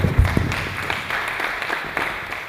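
Audience applause at a pharmacy conference hall event: a dense, steady wash of many hands clapping close by, holding at an even level for the whole stretch with no speech over it.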